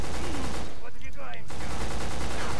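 Rapid bursts of gunfire from a weapon in the video game Black crackle loudly, a quick run of shots broken by a brief gap and then more firing.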